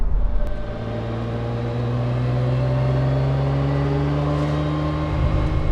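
Naturally aspirated V12 of a McLaren F1 heard from the cabin, a steady smooth drone with harmonics slowly climbing as it pulls, moderately loud and continuous with no talking.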